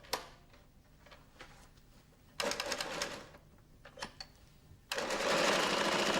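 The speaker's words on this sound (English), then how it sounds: "raise the top roller and put 2 to 3 stitches into the Perlon velour tape in the corner" A Flexorand Speedbinder carpet binding machine on a table stitches Perlon velour tape at a corner in short bursts of rapid mechanical clatter, separated by quieter pauses, with the last burst running longer and louder.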